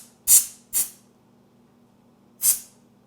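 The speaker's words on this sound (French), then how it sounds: "Puis là, je prends mon spray." Three short bursts from an aerosol spray can used while assembling a homemade milk-chocolate Easter decoration, two close together and a third after a pause, each a sharp hiss that fades quickly over a low steady hum.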